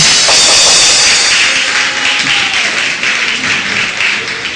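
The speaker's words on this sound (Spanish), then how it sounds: "Aplaude. Aplaude." Loud, sustained applause from a church congregation during a Spanish-language worship service on the Holy Spirit, dense and steady throughout without a break.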